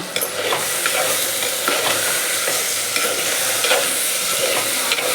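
Onion and garlic fry in a pan for a garlic kuzhambu, a steady close sizzle broken by scraping stirs of a spoon throughout, with no talking.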